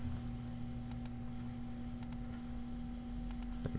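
Number keys tapped on a computer keyboard: a few soft, separate clicks in pairs over a steady electrical hum, with no voices.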